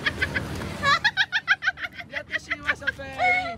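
Chickens clucking in a repeated, rhythmic series of short calls, fairly close and clear, with a rising squawk at the end and faint background voices underneath.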